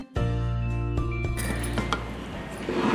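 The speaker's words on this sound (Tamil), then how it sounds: "ஊற வச்ச பருப்பை மிக்சி ஜாரில் போட்டு அரைச்சிக்க போகிறேன்." An electric mixer grinder jar coarsely grinds soaked lentils for a village-style greens sambar, giving a loud, steady motor whine with rattling from the jar, close by and running throughout.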